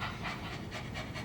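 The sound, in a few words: person imitating a little dog panting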